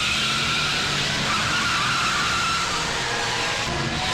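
A car tears along at speed in a police chase from a Hindi-dubbed South Indian action film, its loud, continuous roar mixed with skidding tire noise and no voices.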